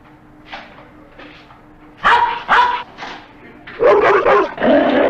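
Doberman pinschers bark in a movie trailer, a series of sharp, loud barks and yips in quick bursts that grow denser toward the end.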